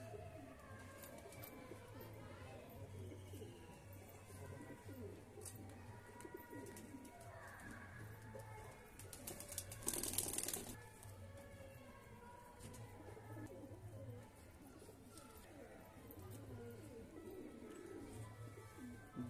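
Madrajes fly line pigeons of an old breed coo softly in a low, repeating murmur, with faint chirps of other birds over steady background noise and a brief louder rustle midway.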